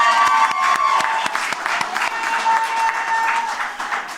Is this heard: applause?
yes